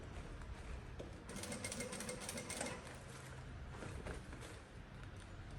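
An industrial straight-stitch sewing machine with a zipper foot sews a backpack, running a steady close rattling buzz that swells louder midway, alone without talk.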